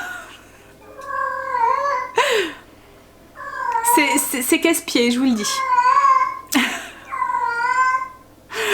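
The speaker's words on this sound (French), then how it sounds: "Je sais pas combien de temps ça dure les chaleurs comme ça, des chats comme ça." A female cat in heat caterwauls in long, wavering yowls, loud and close, in several drawn-out bouts while someone speaks over and between them.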